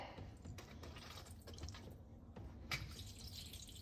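Water trickling and dripping out of a just-opened salt compartment inside a dishwasher, faint close-up drips and small splashes over a quiet background.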